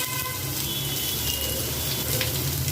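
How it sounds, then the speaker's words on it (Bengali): Chopped onion frying in a pan for Malwani fish curry gives off a constant, even sizzle and crackle. The frying hiss is steady and close, with no voices over it. "এবার এতে দিয়ে দিচ্ছি কুচনো পেঁয়াজ।"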